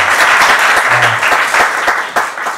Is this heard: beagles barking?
no